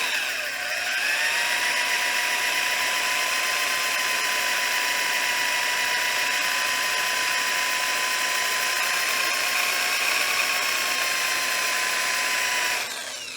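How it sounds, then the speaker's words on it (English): A power drill spins in reverse, driving a sanding mandrel against a wooden platter on a lathe: a loud, steady whine with tonal harmonics that starts at once, holds evenly for about twelve seconds, then cuts off. "I need to reverse my drill"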